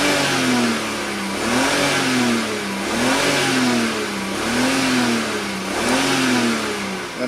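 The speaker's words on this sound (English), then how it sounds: "when I rev it up" A 2006 BMW X5 with a random misfire fault revs repeatedly, its engine note rising and falling about four times in a steady rhythm, loud and close with no talking.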